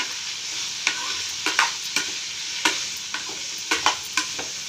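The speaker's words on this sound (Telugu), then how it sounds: "కొంచెం కింద పైన మంచిగా కలుపుకోవాలి" Ivy gourd chutney mixture fries in a pan while a spoon scrapes through it in a series of sharp strokes, each one clear above a steady sizzle. No one speaks.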